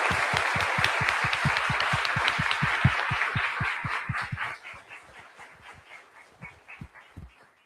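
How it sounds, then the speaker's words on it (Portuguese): An audience gives a round of applause after an engineering-week talk on automotive shock absorber product development, close steady clapping that thins out and fades over the final seconds. "Uma salva de palmas aqui para o pessoal da Frasle."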